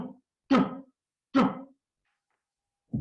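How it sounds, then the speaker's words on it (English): Mortar rounds fire in a Vietnam War combat setting: three dull, heavy thumps land about a second apart with silence between them, and a fourth begins at the very end. "By now, you know that's the sound of mortars."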